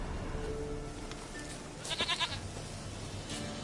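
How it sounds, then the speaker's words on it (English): A goat in The Witcher 3 bleats once in a short wavering call midway through, heard over a steady bed of game ambience. "Here, goat."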